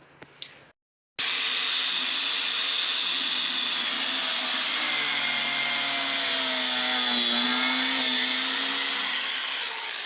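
A power cutting machine fitted with a blade plate cuts through a tyre with wire inside, starting abruptly after a brief pause and holding a loud, continuous whining grind with shifting pitch close by.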